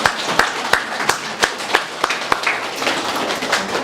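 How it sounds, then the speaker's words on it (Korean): A church congregation in Sydney claps during a Sunday Father's Day service to encourage the men, with sharp, fairly evenly spaced claps standing out over a softer spread of hand sounds throughout. "여러분 우리 옆에 있는 남자분들 축복하면서 우리 박수로 격려하도록 하겠습니다."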